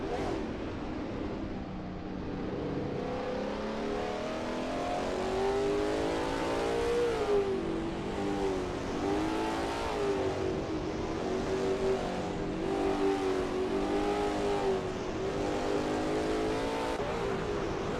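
Lola T70 MkII Spyder race car at Road America in a racing video game on a qualifying lap: a loud engine drone holding steady and rising and falling in pitch as it revs through gears, continuous with no voices.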